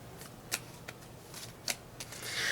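Quick riffling bursts of Chaotic trading cards being shuffled, a few crisp flutters spaced apart, close and fairly quiet.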